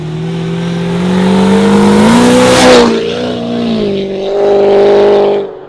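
A Land Rover engine on a dyno revs up, holds, then eases off the throttle in a loud, close drone with a rising and falling pitch and a brief crackle, no one speaking.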